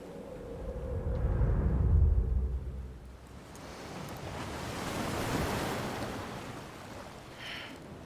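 Ocean surf rolling onto a beach in the video game Death Stranding, with a deep rumbling wave swell building and fading, followed by a second hissing wash of water, steady and fairly close with no talking.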